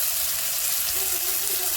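Ginger and garlic sauté in a hot pan with oil, giving a steady, even sizzling hiss that holds without a break throughout.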